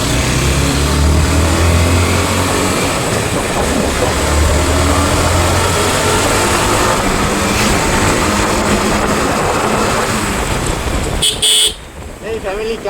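Yamaha motorcycle ridden by two people on the way to its first service: constant loud wind and road roar with engine hum, occasional horn toots from traffic, and voices mixed in.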